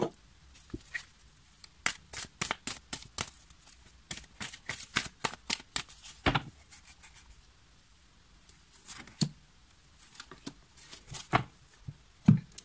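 Fortune-telling cards being shuffled by hand, a run of quick crisp riffling snaps and slaps in bursts with short pauses, close and alone.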